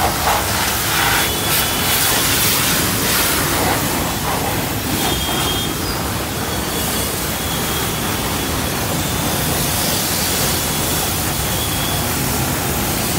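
A 200 bar plunger pump pressure washer driven by a 3 hp motor blasts water onto a car outdoors, a steady loud hissing spray with constant broadband noise throughout, no speech.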